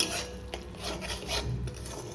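Pointed gourd with turmeric and salt is sautéed in a pan as a spatula rasps and scrapes in short, close strokes over a faint sizzle.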